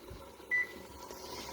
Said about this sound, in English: So, the timer has gone off